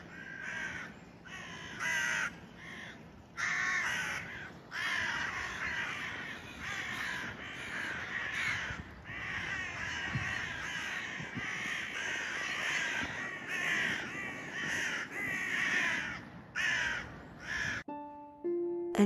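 Wild crows caw repeatedly in a busy overlapping chorus, loud and fairly close, with harsh rhythmic calls in bursts throughout and no talking.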